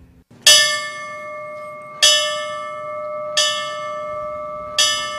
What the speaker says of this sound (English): The ring of a bell resonated throughout El Paso's Lower Valley this morning